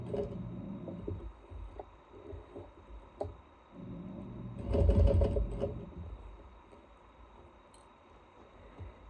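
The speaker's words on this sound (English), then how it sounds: "Again, I am going to backstitch to start." A sewing machine backstitches through fabric binding on a bag, a short close burst of rapid mechanical stitching after quiet handling of the cloth, then falling back to quiet.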